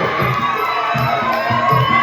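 A crowd cheers at a women's Muay Thai fight with loud, pulsing chant-like shouts in a quick rhythm, dense and close throughout.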